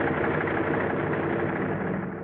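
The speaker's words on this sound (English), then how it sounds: "The sound of the engines warming up starts before dawn, echoing back from the mountains that flank the field." Steady low drone of bomber aircraft engines warming up at an airfield in the Aleutians, a constant rumbling hum with no breaks and no voices.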